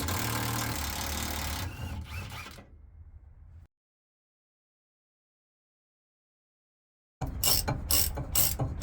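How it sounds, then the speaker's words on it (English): A ratchet wrench clicks in quick bursts while backing out 15mm transmission mount bolts on a GMT400 pickup during an automatic-to-manual swap. Steady ratcheting runs, stops for a few seconds of silence, then resumes in close, choppy strokes. "What we're gonna do right now is remove the two 15mm bolts up top here that go into the transmission."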